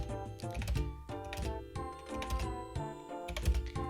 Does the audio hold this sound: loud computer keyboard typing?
yes